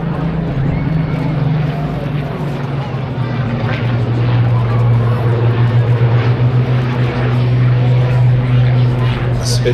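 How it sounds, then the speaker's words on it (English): A Spitfire fighter flies at the Blackpool airshow, its engine a continuous droning roar that swells slightly partway through, with voices talking over it. "Spitfire rolled in the sunshine."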